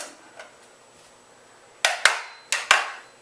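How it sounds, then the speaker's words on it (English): A Benelli Nova shotgun trigger group is fitted back into the receiver, heard as a few faint light taps followed by four sharp metallic clicks and clacks close up, in two quick pairs. "So we put the trigger group back in the"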